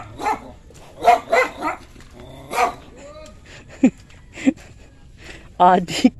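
A dog barks and yips in short, scattered bursts nearby, on a road near a ferry boat station in Taguig, with a person talking in between and a whimpering tone at times.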